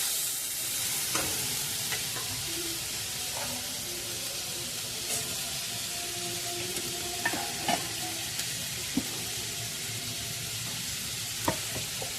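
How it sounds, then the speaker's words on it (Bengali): A thick ginger-tomato paste sizzles in a hot wok under a constant hiss, with occasional spatula scrapes and taps, close up and with no speech. "আদা টমেটো পেস্টটা আমি একটু ভালোভাবে ভেজে নেবো কড়াইতে"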